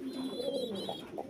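Lahori pigeons, a black Lahori pair among them, give soft, low, rolling coos that run steadily through the short stretch, fairly close.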